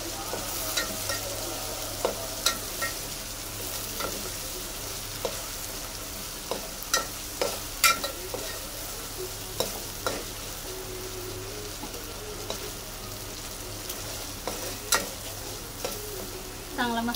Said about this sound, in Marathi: मसाला आपण भाजून घेऊ.